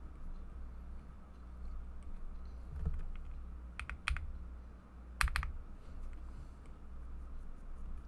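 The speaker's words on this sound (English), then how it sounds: "It's like part ASMR because of my keyboard." Computer keyboard typing, soft and close, with scattered clusters of key clicks and a few sharper taps over a low steady hum, no speech.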